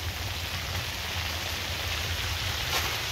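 Rain falls on an ice fishing shelter out on a frozen river during an unusual January thaw, making a continuous, hissing patter close by with a low rumble underneath and no talking.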